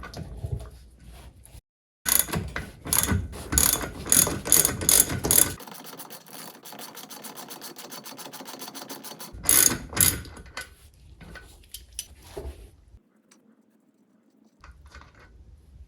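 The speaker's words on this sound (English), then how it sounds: "I'm going to grab 2 ratchets and 2 sockets with the 5/8, and I need to remove again the 5/8 nut" Two ratchets with 5/8 sockets loosen the 5/8 nut on a Mercruiser Alpha One Gen 1 outdrive trim ram, giving bursts of rapid clicking pawl ratcheting with pauses between, close and moderately loud.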